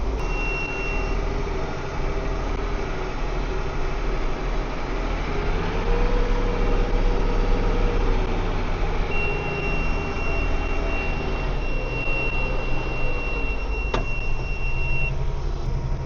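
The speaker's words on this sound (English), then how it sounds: "Got the tractor through." A farm tractor pulling a corn planter drives through a muddy Iowa corn field, its engine droning loud and continuous with steady harmonic hum and a sustained electronic beep tone partway through.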